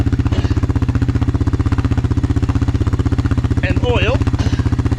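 A quad bike engine idles steadily close by, a loud, even low thumping pulse that holds throughout, with someone briefly speaking over it near the end.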